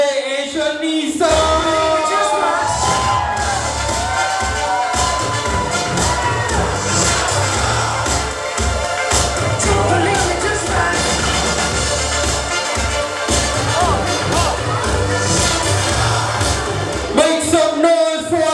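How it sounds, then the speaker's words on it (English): A wedding reception crowd cheers, whoops and applauds loudly and steadily near the mic, with music running beneath the noise and a brief lull near the start. "Put your hands together for RJ and Shanisa"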